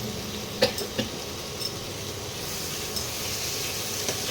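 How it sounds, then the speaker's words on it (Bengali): Spices with a spoonful of coriander powder frying in oil for a lamb curry, a soft continuous sizzle punctuated by several light stirring scrapes and spoon taps against the pan, heard close with no talking. "এইবারে মশলাটাকে ভালো করে কষাতে হবে।"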